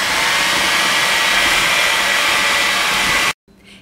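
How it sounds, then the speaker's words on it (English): Electric hand mixer beating cookie dough ingredients until light and fluffy in a mixing bowl for corn cookies, a steady loud whir running without a break, then cutting off abruptly near the end. "I'm going to use an electric mixer and get them mixed until light and fluffy."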